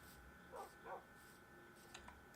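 Dogs on a farm in a video game let out two soft barks, followed by a few faint yips, all quiet against a low steady background hum.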